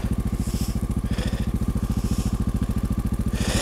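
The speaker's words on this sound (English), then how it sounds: "this will be my first ride on a Honda 650 single cylinder" A Honda XR650 single-cylinder dual-sport motorcycle engine idles close by with a steady, rapid thumping beat and bursts of rising revs, loud and continuous with no talk.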